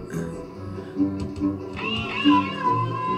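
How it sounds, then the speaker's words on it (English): A cat screams and yowls in a Second Life haunted house, with repeated loud, drawn-out wails layered over background game sound and no speech. "The cat will scream every time you go through."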